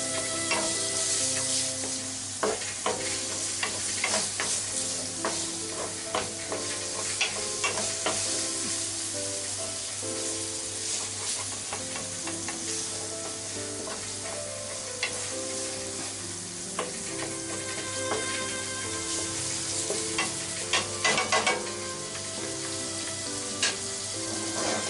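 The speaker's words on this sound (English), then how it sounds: "Add minced pork. Fry it about 5 minutes." Minced pork fries with a steady close sizzle in a pan for a side dish, broken by frequent scraping and clattering stirs of a utensil against the pan throughout.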